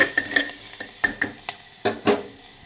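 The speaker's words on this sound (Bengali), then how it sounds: "কেটে রাখা দেখো পেঁয়াজ। একটু নাড়িয়ে চাড়িয়ে নেব।" Chopped onions stirred with a utensil in a hot pan, giving irregular scraping clicks and knocks over a soft frying sizzle, close and moderately loud, no talking.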